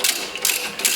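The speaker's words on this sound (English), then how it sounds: "I'm gonna grab a ratchet, again with a 13mm on there, and I'm gonna drive these home." A ratchet with a 13mm socket drives front brake bolts home on a 2016 Mazda3, giving three quick bursts of close, crisp metallic clicking with no talk.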